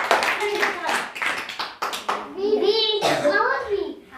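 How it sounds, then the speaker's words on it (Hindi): Children applauding a classmate in a primary school classroom quiz, quick bursts of hand claps mixed with overlapping children's voices, close and lively throughout. "करण के लिए तालियां।"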